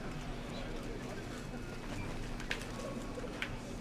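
A bird coos softly in the video game Valiant Hearts: The Great War amid a constant noisy background, with faint talking.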